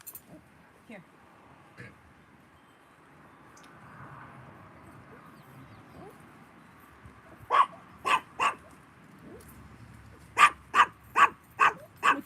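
A dog barks sharply from nearby, first three barks, then a rapid run of five more after a short pause, over faint background sounds.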